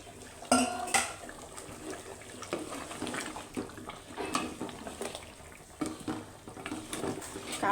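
Potato pieces go into meat cooking in a pot with clanks of metal utensils and pot, sharp scraping and clatter in uneven bursts, close and moderately loud, with no voices.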